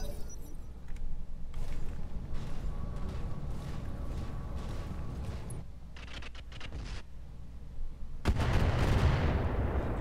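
Weapons fire in the mech strategy game Roguetech, a dense rumbling barrage of impacts and bursts that ends in a loud explosive crash.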